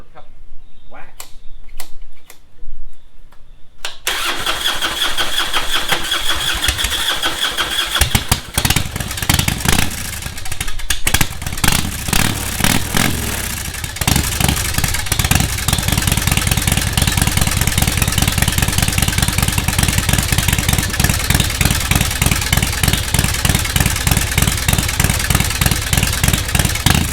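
A motorcycle engine is choked, cranked with a few sputtering tries, then catches and settles into a loud, steady idle with rapid even pulses, close by for most of the stretch.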